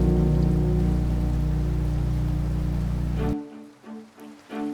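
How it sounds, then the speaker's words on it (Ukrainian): Raindrops pattering on a windowsill as steady rain, a dense continuous wash that cuts off abruptly, leaving a few faint scattered drips. "Світ мовчить ні звуку, ні жалю лиш краплини грають на підвіконні."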